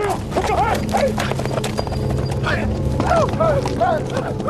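Hooves clip-clop rapidly in a galloping rhythm while horses whinny, with a busy, dramatic soundtrack underneath.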